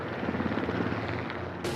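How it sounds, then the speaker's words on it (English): Spotter helicopter flying over a herd of animals in the Australian outback, a steady, loud rotor and engine drone filling a short stretch alone, with no talk over it. "As soon as the spotter helicopter moves the herd towards us"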